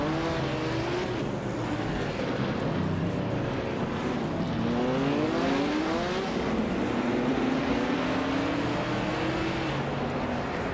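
Racing cars roar through a video game race, several engines whining and shifting pitch as they run nose-to-tail, a dense continuous drone with rising and falling revs.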